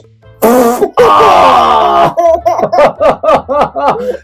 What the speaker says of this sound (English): every time I bend over, I end up doing a smelly fart.